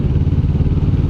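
A 2021 Kawasaki Vulcan S cruiser motorcycle engine runs loud and close, a steady low rumbling idle with a slight mechanical clatter, and no voices.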